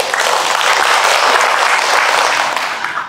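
Loud, close applause from an audience at a local-products event, thick continuous clapping that stays strong before tapering slightly near the end.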